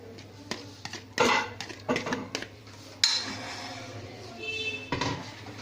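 Utensil spreads a chicken and onion mixture as a first layer in a baking mold, with close clinks and scrapes against the dish in an irregular run, no talk.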